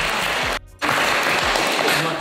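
Clapping and cheering from a small group in a casual studio setting, loud and continuous apart from a brief sudden drop out, with voices mixed in.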